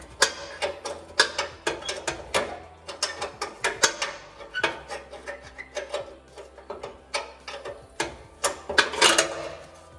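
A ratchet wrench backs out the last bolt on a rusty vehicle in a string of uneven, close bursts of clicking, mostly fast pawl ticks with brief pauses between strokes, with no talking.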